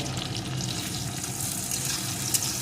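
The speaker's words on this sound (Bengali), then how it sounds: "এর ভিতরে দিয়ে দেবো একটা পেঁয়াজ কুচি একটা চেরা কাঁচা লঙ্কা এখন এগুলোকে একটু ভেজে নেব" Chopped onion and a slit green chilli frying in hot oil over tempered spices, giving a steady close sizzle that runs unbroken throughout with no voices.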